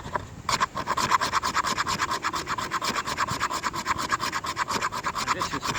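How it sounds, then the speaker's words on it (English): A knife shaves curls off a stick of premium fatwood in a steady run of quick, close rasping strokes, each scrape crisp and rhythmic, continuing without pause and with no voices. "This is a perfect knife for it, to get the shavings off"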